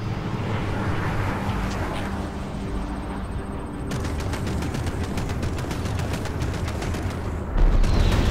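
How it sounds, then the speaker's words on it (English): Rapid machine gun fire in the space combat game Strike Suit Zero, a fast continuous rattle of shots kicking in midway over a roaring engine and battle rumble, loud and close, ending in a heavy thud. "Switch to machine guns to strip down their shields."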